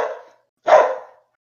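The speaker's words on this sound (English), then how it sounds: "No, that's my dog being a prick." A pet dog barks twice nearby, two short sharp woofs separated by a brief pause, heard alone indoors without other sounds.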